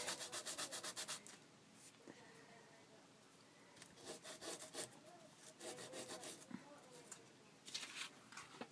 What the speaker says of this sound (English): I'm really pleased that the sandpaper works